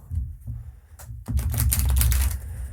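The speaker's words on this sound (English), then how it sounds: "I'm going to shuffle that one real fast and then shuffling the next one, which is Starseed Oracle." A Starseed Oracle card deck is shuffled by hand, with a few soft taps followed by a dense, crisp burst of riffling cards up close.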